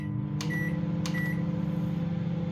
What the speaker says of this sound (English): I'm going to stick them in the microwave